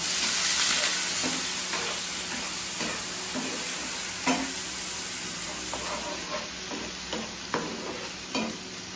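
A spoon works an onion and chicken mixture around in a hot pan, producing a constant close sizzle with occasional scraping strokes and soft clacks, with no talking.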